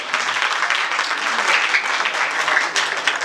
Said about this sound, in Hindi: इनके लिए जोरदार तालियां, इनकी खिदमत के लिए जोरदार।